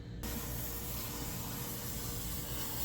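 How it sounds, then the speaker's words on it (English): Aerosol A/C coil cleaner sprays steadily from a can onto the evaporator core of an R50 Nissan Pathfinder/Infiniti, a close, loud continuous hiss that holds for the whole stretch after a brief quiet start. "you just want to spray until it turns into a foam"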